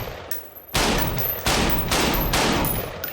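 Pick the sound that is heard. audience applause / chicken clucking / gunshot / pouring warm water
gunshot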